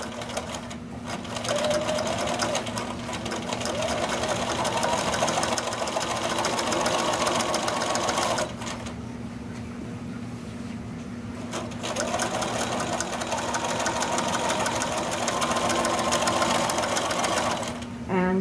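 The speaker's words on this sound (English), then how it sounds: "And you're going to start sewing." A sewing machine stitching an old towel into a dish drying mat, its steady rapid mechanical whir running in long bursts with a brief pause midway, while a person talks over it.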